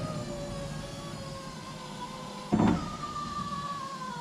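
Electric power window motor on a 1985 Chevy Squarebody pickup after rewiring, a steady whining hum with a short louder clunk partway through, close and alone.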